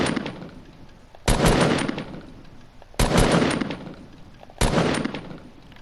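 Three loud, sharp gunshots in Fortnite, each a sudden burst with a decaying tail, spaced about 1.7 seconds apart, close and alone with no talk.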